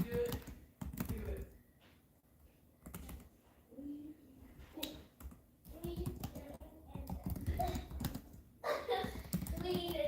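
Typing on a computer keyboard, with irregular bursts of close, crisp key clicks and pauses between them, and a voice speaking intermittently in between.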